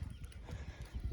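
Horses near a paddock at breakfast, steady hoof clip-clop with a faint whinny in the mix, moderately close outdoors.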